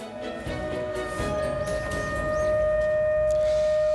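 A memorial siren at the UN Memorial Cemetery in Korea, during a Korean War remembrance ceremony, holds one sustained pitch and grows gradually louder, sounding from a distance over a low background rumble.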